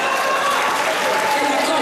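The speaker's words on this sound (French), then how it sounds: "Je demande d'applaudir." Audience applause at a Senegalese ceremony honouring officials, a dense steady wash of clapping that fills the whole moment at close range, with a voice faintly present beneath.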